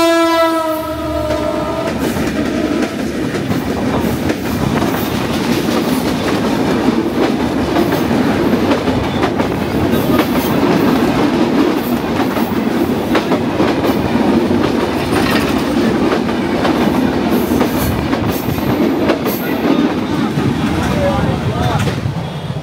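Bijoy Express passenger train rolling past close by just outside Jessore, a loud continuous rumble of wagons with clattering wheels, opening with a sustained horn blast in the first two seconds.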